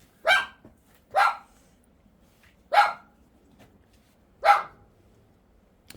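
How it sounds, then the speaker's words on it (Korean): A dog barks four times in short, spaced bursts, moderately close, in a quiet rural setting with no talk over it. "아 짖지 마."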